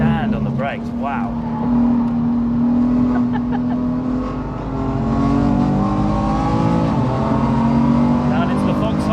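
A 525 bhp BMW F80 M3 runs flat out around the Nürburgring, its loud, close engine droning steadily with rising and falling pitch as it accelerates and shifts through corners throughout.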